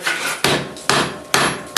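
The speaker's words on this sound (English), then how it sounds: "by hammering straight down, then on the 45s, and then on the sides" Four loud, evenly spaced hammer blows ring out on hot steel while forging bolt jaw tongs, each strike followed by a short decaying ring.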